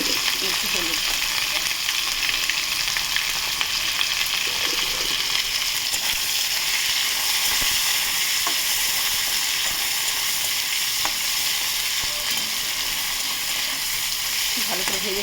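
Soaked dried fish fries in hot oil with salt and turmeric, giving a loud, continuous sizzling hiss with steady crackle, and light stirring clatter appears now and then.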